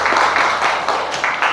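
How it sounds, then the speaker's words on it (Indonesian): Class applauding together in a classroom: a short run of brisk, close hand clapping from many students, rising and falling in quick waves. "tepuk tangan untuk kita semua"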